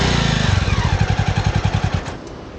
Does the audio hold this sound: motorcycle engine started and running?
yes